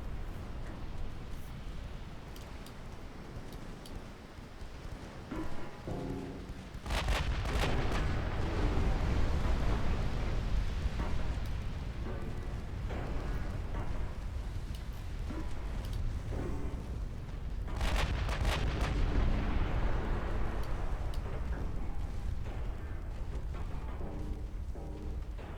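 Naval guns firing shells in the DIP naval warfare game, deep booming blasts that roll into a long rumble, with sharp salvos near seven and eighteen seconds over a continuous low roar.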